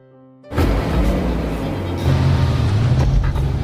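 A car engine bursts in after a moment of near silence, then roars loudly and steadily as the car drives off in a film scene, the rumble swelling slightly partway through.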